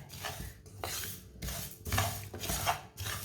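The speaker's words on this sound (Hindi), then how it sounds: "मसालों को हल्का सा भून लें। चूल्हे की आंच को मैंने बिल्कुल कम रखा है।" Spices dry-roasting in a pan over a very low flame for pickle-making, with soft scraping and stirring strokes of a utensil against the pan in an irregular rhythm, close and quiet.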